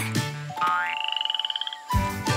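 Small jungle frogs croak loudly up close, with a rapid pulsed trill between louder croaking calls.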